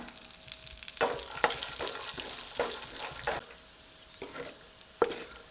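Cashews, almonds and raisins sizzle steadily in a hot pan for rava coconut laddu, with a spatula scraping and stirring through them in repeated sharp strokes, close and fairly loud.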